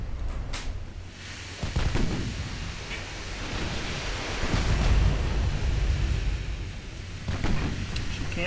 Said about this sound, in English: As expected, Admiral Scheer is taking the first shots.